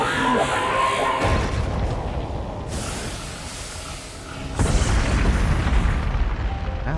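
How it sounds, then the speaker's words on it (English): Explosions in the video game The Legend of Zelda: Tears of the Kingdom, heavy booming blasts with long rumbling tails, loud and close, one near the start and another strong burst a few seconds later. "Wow, that was a big explosion."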